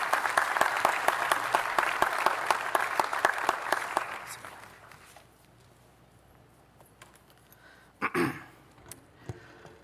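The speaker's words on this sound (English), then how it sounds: "Please put your hands together and give a warm round of applause to Mr. Damie Sinanand as he comes to offer o" Audience applause at the official opening of the Caribbean Investment Forum 2024, a steady burst of clapping for about four seconds that fades into room quiet, followed by a few thumps.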